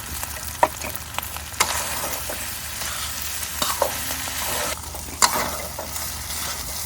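Tomato and onion fry loudly in a pan for pork fried rice, a close, dense sizzle punctuated by frequent stirring scrapes and clacks of a utensil, with no talking.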